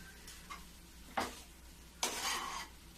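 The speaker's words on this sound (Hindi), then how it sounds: "तो देखो मैं थोड़ी देर और मैं इसको भून लेती हूँ" Mawa (khoya) being stirred and roasted in a pan at home: a few spaced scrapes of a utensil against the pan, the last one longer with a soft sizzle, close and fairly quiet, no talk.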